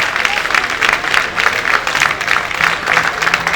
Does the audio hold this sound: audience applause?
yes